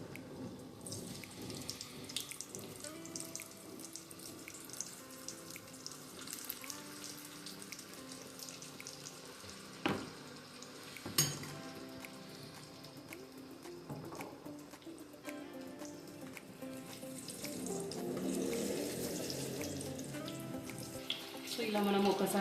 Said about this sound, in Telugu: ఆయిల్ వేడైంది. ఇప్పుడు మనం మెల్లిమెల్లిగా ఒక్కొక్కటి వేసుకుందాము.